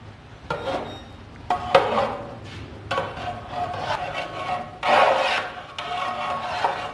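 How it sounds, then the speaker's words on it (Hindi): A spoon scrapes and stirs grated carrot and sugar in a pot for halwa, in repeated rough rubbing strokes with wooden and metal clatter, close and steady with short pauses between bursts. "आपने चम्मच इस तरह से आपने कंटिन्यू चलाना है ताकि शुगर अच्छी"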